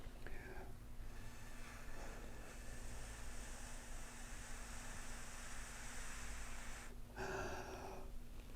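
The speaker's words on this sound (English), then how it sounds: "I'm also gonna take another deep breath and just blow on it" A deep breath is blown onto a cobalt chloride strip: a long, steady breathy exhale lasting several seconds, close to the microphone, with short sharp intakes of breath at the start and near the end.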